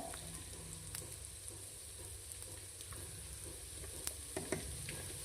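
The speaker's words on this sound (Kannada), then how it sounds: "ಲೈಟಾಗಿ ಒಂದು 30 ಸೆಕೆಂಡ್ ಈ ರೀತಿ ಫ್ರೈ ಮಾಡಬೇಕಾಗುತ್ತೆ." Ingredients for vangibath fry in a pan with a soft, continuous sizzle, punctuated by a few light stirring clicks and scrapes toward the end.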